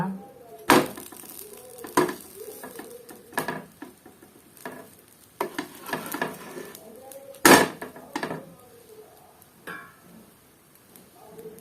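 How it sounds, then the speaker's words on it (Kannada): A cheese sandwich fries in ghee on a low flame while a spatula clatters and scrapes against the pan in irregular loud bursts over a faint sizzle. "ಲೋ ಫ್ಲೇಮ್ ಫ್ರೈ ಆವಡ ಐ ಬೊಕ್ಕ ನೆನ್ನು ತಿರ್ಗದ್ ಪಾಡ್ಗ"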